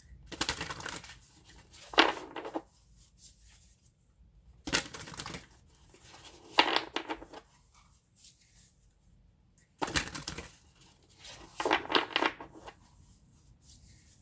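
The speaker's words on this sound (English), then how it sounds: "Let me shuffle these a little bit." Tarot cards are shuffled by hand in short rustling, riffling bursts, several clusters separated by quiet pauses, close and fairly soft.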